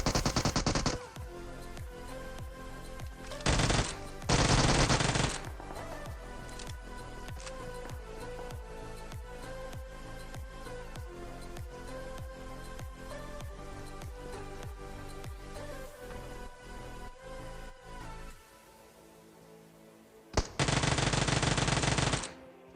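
Rapid automatic gunfire in PUBG Mobile, long bursts of fast regular shots with a few louder blasts, then a short lull before a final loud burst.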